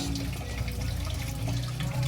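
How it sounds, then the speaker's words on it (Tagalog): Water pours steadily into a cooking pot of goat papaitan, a continuous splashing, running-water sound heard close up with no talking. "Lagyan ng tubig ulit"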